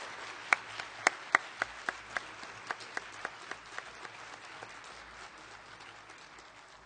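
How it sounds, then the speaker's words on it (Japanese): A meeting audience claps with loose, uneven individual claps that start strong and gradually thin out and fade, mid-distance in a hall. "皆様、今一度盛大な拍手をお願いいたします。"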